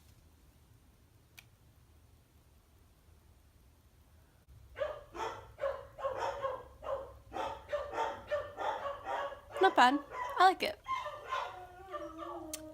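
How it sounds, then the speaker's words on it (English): Several dog barks and howls ring out in a busy run, fairly close, with a voice talking over them. "And I'm going to wait till my dog stops barking."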